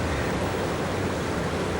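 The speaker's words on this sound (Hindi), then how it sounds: "यार ये झरना तो बहुत डरावना।" Waterfall rushing in a steady, dense roar, an unbroken broadband wash of falling water at an even level with no pauses or voices.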